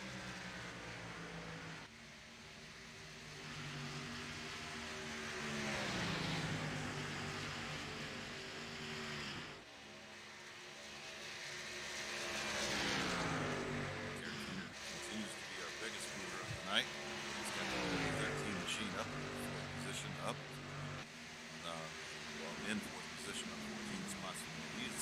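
ARCA stock cars race under the lights at Las Vegas Motor Speedway near the halfway mark, engines rising and falling in pitch as cars sweep past in waves, with steady track roar beneath continuous commentary.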